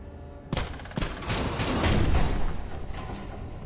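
Gunfire in the video game SULFUR: a couple of sharp shots open a loud rapid fusillade that swells into a dense continuous burst of firing.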